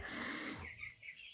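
Newly hatched Bielefelder chicks give a quick burst of cheeping and clucking at close range. The noise is steady at first, then drops to a few softer peeps, with no talk over it.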